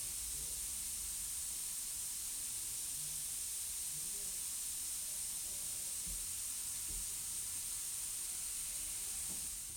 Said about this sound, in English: listen to this while I continually start and stop the paint over and over again